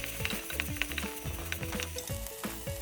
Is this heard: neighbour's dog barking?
no